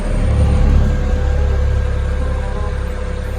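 An electric fan's motor hums loudly and steadily when slowed to half speed by a cheap dimmer knob, a constant close drone with no speech.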